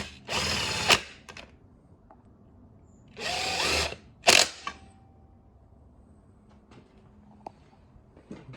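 A power tool, likely a drill, fastens the genuine radiator onto a 2000 Yamaha YZ250 in three loud whirring bursts: two longer runs and a short final zip, with quiet workshop clicks between them.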